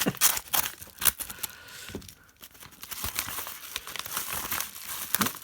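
Paper and plastic packaging crinkling and rustling up close, with sharp crackles and occasional tearing as a parcel is opened.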